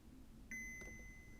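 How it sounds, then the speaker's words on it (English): A Hohem iSteady M6 gimbal gives a single clear electronic confirmation beep, a steady high tone that starts partway through and holds to the end over a quiet room. "until I hear another beep"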